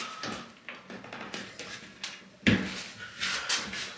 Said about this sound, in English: We give them a little bit of a knock and a pull.